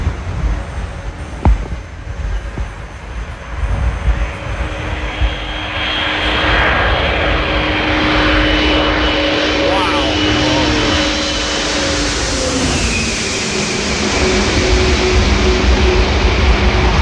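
An Antonov AN-124 cargo plane flies overhead, its engine roar building from a distant drone into a loud, broad rumble that holds and swells toward the end, with a few voices heard early on.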